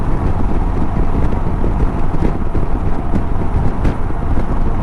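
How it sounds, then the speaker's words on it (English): Strong wind roars and buffets continuously against the microphone while riding a Honda SilverWing scooter, a loud, steady rumble with no voices. "it's windy out here"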